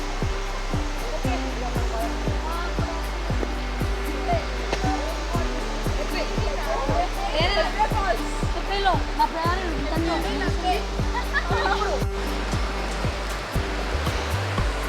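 Hebbe Falls waterfall roars as a steady, loud broadband rush throughout, with a voice faintly speaking over the constant roar.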